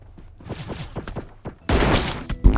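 Dense burst of automatic gunfire from jump-shooting in PUBG Mobile sniper training arcade, loud and close for about a second, following a stretch of quieter game sounds and brief voice-like noise.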